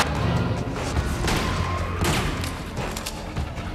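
Rapid video game gunfire hammers a wall in dense, continuous bursts of crackling shots with thuds mixed in, loud and close throughout.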